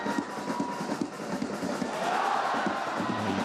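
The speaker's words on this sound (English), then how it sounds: "you can hear the crowd, how excited they get" A football stadium crowd at an AFC Champions League Elite match between Gangwon FC and Shanghai Shenhua roars and cheers continuously, swelling in excitement as the home side attacks, a dense distant wash of voices.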